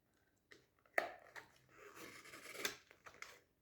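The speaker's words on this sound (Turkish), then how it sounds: "Bunu dikkatlice keseceğim" Packaging is carefully snipped open with scissors in a few short, crisp cuts and rustles, close and fairly quiet, with no talking.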